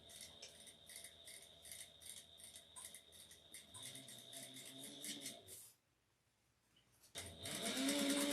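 A sewing machine runs steadily while back stitching a bucket bag, a close, even rattling whir that pauses briefly before starting again.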